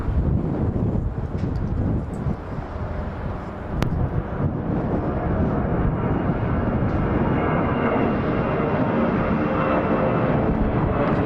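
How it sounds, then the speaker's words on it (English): A 19-year-old Boeing 717-2BD operates at Atlanta's Hartsfield-Jackson International Airport, heard as a loud, steady, broadband engine roar that swells and stays heavy throughout, with wind buffeting the microphone. "these passengers are aboard an aircraft Boeing 717-2BD, and that aircraft is 19 years old in age."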